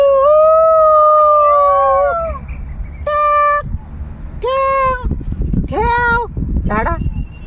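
A dog gives long wavering howls, followed by shorter rising and falling howls, loud and close, over a rough, noisy background.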